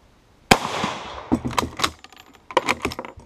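A French Lebel Model 1886/93 rifle chambered in 8x50R Lebel fires one sharp, loud shot outdoors, followed by bolt-action clacks and metallic handling clicks nearby.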